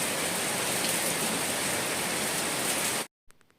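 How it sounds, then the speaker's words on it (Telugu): Rain pours down as a dense, even hiss that stays loud and constant for about three seconds, then cuts off abruptly into near silence with a faint trailing noise. "వర్షం పడుతుంటే వర్షాన్ని అయితే చూస్తూ ఎంజాయ్ చేస్తున్నాను"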